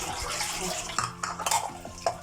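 Dishes clatter and clink in a sink, with short metallic knocks and scrapes of plates and cutlery over a running-water wash, closely miked and without talk.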